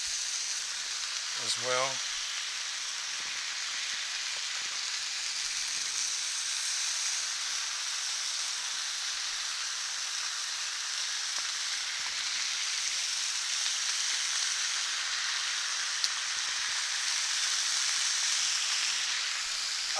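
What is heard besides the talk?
bacon frying in a pan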